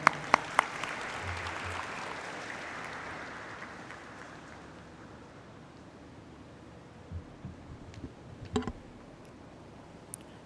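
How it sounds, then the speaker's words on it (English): Audience applause at a stock exchange ring-the-bell ceremony greets NSE CEO Ashish Kumar Chauhan, a soft, distant hall-wide patter of clapping that fades over several seconds, followed by a few close clicks and handling taps. "Can we have a huge round of applause for him?"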